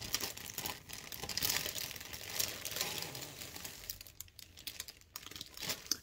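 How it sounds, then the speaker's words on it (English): Plastic packaging crinkles and rustles continuously while a cross-stitch kit is unboxed, close and busy with irregular crackling bursts and no talk. "Sorry, crinkling."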